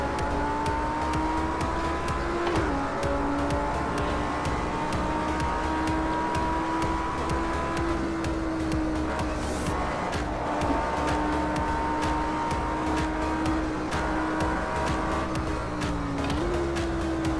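Race car engines roar continuously in a racing simulator game, an Audi R8 against a Nissan GT-R, with steady high revving tones that climb and drop through gear shifts, plus occasional tire squeal, loud and close throughout with no talking.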